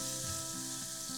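Prawns fry together in a large wok over medium heat, a dense, even sizzle running continuously and loudly with a faint steady hum beneath.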